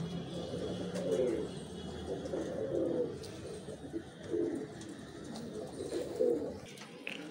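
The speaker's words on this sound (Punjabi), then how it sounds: "ਵੱਡੇ ਕਬੂਤਰ ਬਾਹਰ ਕੱਢੇ ਨੇ ਸਾਰੇ" Large pigeons coo in repeated low, rounded phrases every second or so, moderately close and fairly quiet, over a soft outdoor background.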